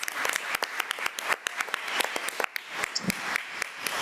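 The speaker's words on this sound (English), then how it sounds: "Let's give Ada Harmon another round of applause." Applause at a school board meeting honoring a student: a modest room of people clapping, individual claps distinct and irregular, fairly close and continuous.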